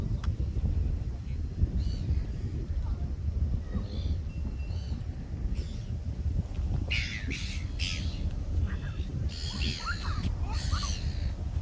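Seagulls call outdoors in Picton, New Zealand, with scattered squawks and cries at a moderate distance that grow busier toward the end over a steady wind rumble.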